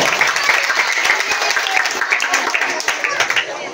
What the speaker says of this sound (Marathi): सर्वांनी एकदा प्रचितीसाठी जोरदार टाळ्या